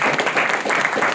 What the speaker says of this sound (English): So you all want to give a round of applause for you all as well.